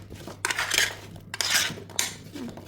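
Seasoned potatoes with white chili and black pepper being mixed in a dish, a utensil scraping and clinking against it in three distinct bursts separated by short pauses, close and fairly loud.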